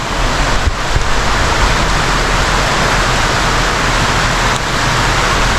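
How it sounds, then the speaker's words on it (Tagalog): Heavy typhoon rain pours down steadily at a house, a loud, dense, unbroken roar of water with no let-up across the whole stretch. "lumalakas na yung ulan."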